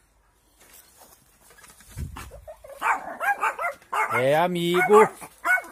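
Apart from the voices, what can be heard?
dogs barking at a cat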